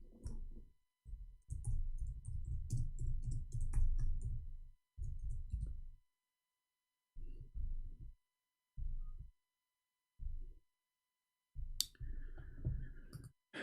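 Clicky computer keyboard typing comes in dense bursts separated by silent gaps, a long run at first and then shorter clusters, close and fairly loud.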